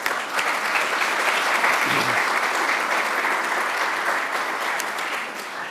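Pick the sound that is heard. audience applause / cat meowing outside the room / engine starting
audience applause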